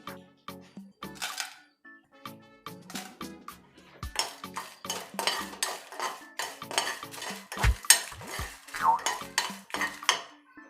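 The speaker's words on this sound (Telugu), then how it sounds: "ఇప్పుడు ఎండుమిరపకాయలు వేసి వేయించుకోవాలి." Dried red chillies frying in a pan, heard as an irregular run of scraping, rattling spatula strokes against metal with soft sizzle, fairly close and steady throughout with no talk.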